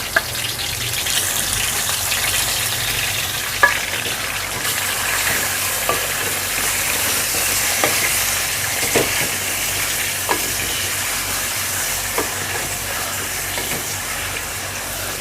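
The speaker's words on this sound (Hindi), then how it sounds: "इसको उस वक्त तक भूनना है जब तक इसका कलर अच्छे से चेंज ना हो जाए।" Chicken pieces frying in moderately hot oil in a karahi, a steady broadband sizzle throughout with occasional soft clicks and scrapes, close and fairly loud, no voices.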